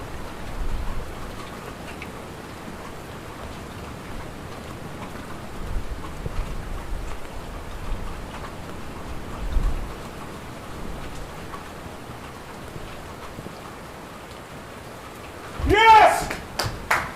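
Steady soft rain patters throughout the year's first rainfall, with a brief louder burst of noise near the end.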